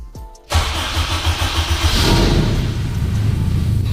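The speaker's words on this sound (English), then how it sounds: "Cold start." Cold start of a 502 hp race-built Honda Civic engine: a short starter crank, then the engine catches and settles into a loud, rough, lumpy idle close to the microphone.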